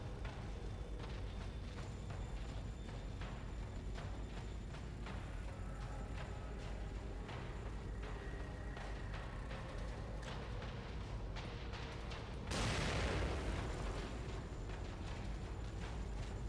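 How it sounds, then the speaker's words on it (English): A grenade goes off in The Evil Within, a sudden loud broadband burst about two-thirds of the way through, set against a dense, steady din of game sound effects and music. "I'm gonna try another grenade here."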